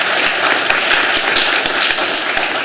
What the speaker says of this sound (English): May I have a round of applause